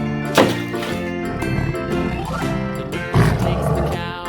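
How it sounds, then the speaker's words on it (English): A toy lion roars, two loud rasping roar bursts with a rumbling growl carrying between them, fairly close. "Lion."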